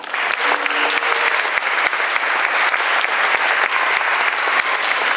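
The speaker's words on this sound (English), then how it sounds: "I want you to give yourselves a round of applause" Loud, dense applause from an audience at a Catholic arts gathering fills the room, a continuous wash of many clapping hands heard up close without pause.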